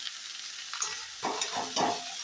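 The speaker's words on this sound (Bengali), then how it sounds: "এদিকে আমার এটা ভাজা ভাজা হচ্ছে, দেখতেই পাচ্ছেন" Soya chunks frying for chili soya, with a steady close sizzle and a few louder stirring scrapes toward the end, no voices.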